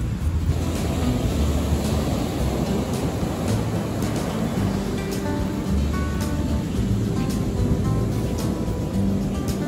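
Ocean surf breaking continuously on a Florida beach, a steady broadband wash of waves with wind rumbling across the microphone throughout, no speech.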